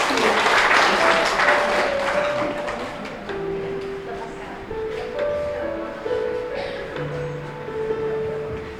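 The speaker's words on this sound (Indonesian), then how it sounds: "Tepuk tangan." Guests at a wedding ceremony clap in a steady round of applause, loudest at the start and then thinning, with musical tones and voices mixed in beneath.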